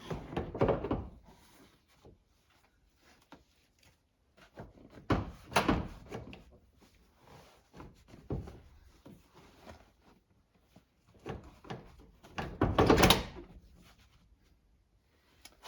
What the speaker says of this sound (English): We're going to position the seat on the latches and then clip it in.